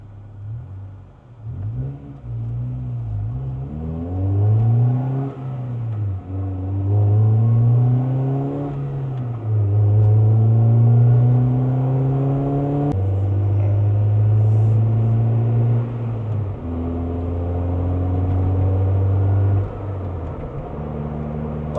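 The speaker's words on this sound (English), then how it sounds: "Right after this, we'll take her back on the road, take it for another drive" A 1998 Honda Integra Type-R DC2 driven on the road, engine repeatedly revving up through the gears and easing off, close from inside the car, steady road rumble beneath, no talk.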